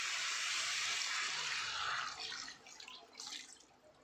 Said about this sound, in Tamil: இது ஒரு 3/4 லிட்டர் தண்ணி சேர்த்துக்கிறேன்.